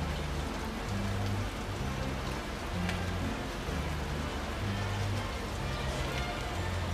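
Rain falls steadily outdoors in a garden in Somers Point, New Jersey, a continuous close hiss of drops on surfaces with no talking.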